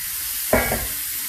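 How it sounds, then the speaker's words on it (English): Carrots hit a hot oiled cast iron skillet with a sudden loud sizzle that quickly settles into a steady frying hiss, close and without voices. "I dumped the carrots in. There's going to be a lot of sizzling"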